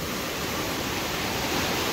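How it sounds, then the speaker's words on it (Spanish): A flooded river rushes loudly, carrying stones along its bed, a steady broadband roar of water with no breaks and no talk. "lleva piedras, porque se oye que truenan las piedras cuando topan en las otras abajo"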